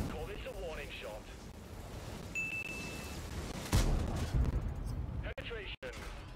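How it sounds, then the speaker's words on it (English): A tank cannon shot in the World of Tanks game lands as one heavy boom partway through, followed by a rumbling tail and a few sharp clanks, with a game tone and background noise around it. "Call this a warning shot."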